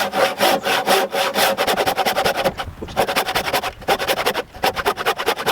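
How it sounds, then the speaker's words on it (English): Hand saw cutting through timber during garden room cabin construction, a steady rhythm of rasping push-and-pull strokes, close and loud, with two brief pauses between runs of strokes. "I cut that bit off there. And that relieves the saw, so it's not rubbing on so much wood."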